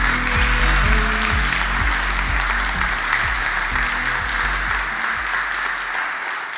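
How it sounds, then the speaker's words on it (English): Audience at an architecture student awards ceremony giving a long round of applause, loud dense clapping that holds steady and tapers slightly toward the end, with low music-like tones underneath. "can we give all of the students the biggest round of applause?"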